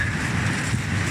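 Strong wind in the Jura mountains roars steadily against the microphone in a low, rough rumble, a close and continuous buffeting with a faint hiss above it.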